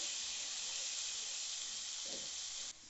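Chickpeas and browned onions frying in a pan, giving a steady, even sizzle and hiss throughout, with a faint clink near the end.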